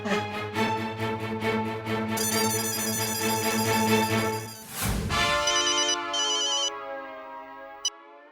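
A telephone rings with a melodic electronic ringtone, repeating steadily and loud, then switches to a brighter chiming pattern before fading out.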